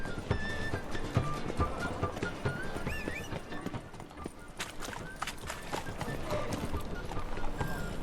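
Roach, a horse in The Witcher 3, gallops with steady clip-clopping hoofbeats and a whinny near the start, all under game music and voices.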